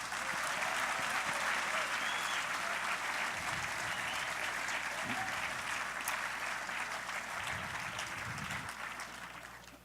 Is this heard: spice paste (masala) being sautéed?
no